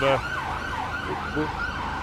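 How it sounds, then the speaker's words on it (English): An ambulance siren wails as the vehicle passes on a city street near a bridge in London, its rising and falling tone steady and fairly close, with no talk over it. "we'll just pause a moment as this ambulance goes by."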